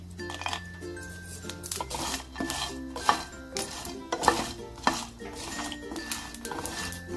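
Cinnamon pieces dry-roasted in a pan for masala chai powder, with repeated clinks and scrapes of a utensil against metal and irregular light stirring taps throughout, close and moderately loud.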